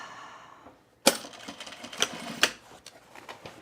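A home sewing machine stitching men's cargo shorts starts with a sudden burst and runs with a rattly, clattering mechanical chatter, with sharp louder knocks spaced through the brief run; close and fairly quiet, with no talking.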